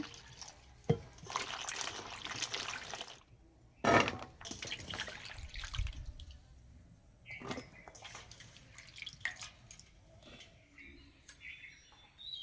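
Water splashing and trickling while leafy greens are washed by hand, irregular bursts of sloshing and dribbling with quieter gaps and a sharp knock, outdoors with faint birds in the background.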